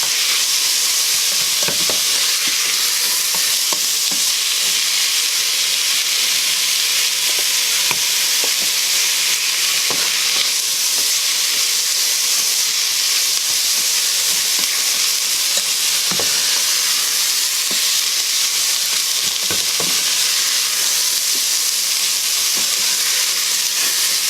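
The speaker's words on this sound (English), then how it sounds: "We're going to cook these onions up until they're clear." Onions fry loudly and continuously in a pan with oregano and spices, a dense close sizzle with occasional soft scrapes of stirring, no talking.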